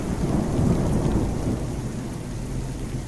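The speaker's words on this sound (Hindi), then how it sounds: "फिर एक रात बहुत बारिश हो रही थी।" Heavy rain pours steadily with low rolling thunder rumbling underneath, a dense continuous wash of sound at close range with no voices, set on a stormy night in a horror cartoon.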